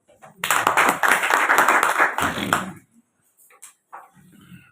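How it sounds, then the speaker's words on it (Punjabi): An audience at an International Women's Day gathering in Nawanshahr breaks into a couple of seconds of lively group clapping for a woman guest, then falls quiet as a voice speaks. "ਬੈਠੋ ਤੁਸੀਂ ਮੈਡਮ ਦੇ ਕਾਤੇ ਤਾੜੀ ਲਾਓ"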